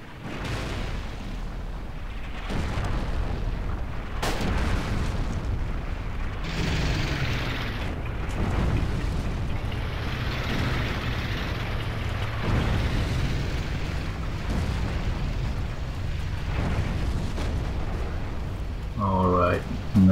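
Artillery fire in the WWII shooter Forgotten Hope 2: heavy booms and rumbling blasts roll continuously through the whole stretch, dense and fairly loud, with a sharper burst near the end.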